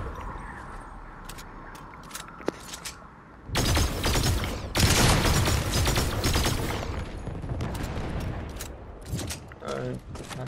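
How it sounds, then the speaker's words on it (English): Rapid bursts of gunfire in Fortnite, sharp repeated shots and clattering volleys that start abruptly after a quieter stretch, loud and close, with voices talking in between. "Oh, yeah, someone else is shooting at him"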